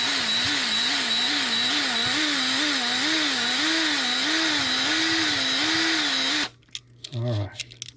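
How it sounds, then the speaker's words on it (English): A power drill bores into the base of a Hot Wheels car with a steady, wavering whine for about six seconds, then cuts off abruptly, leaving a few brief handling noises. "So we're going to give her a little bit more drill out here."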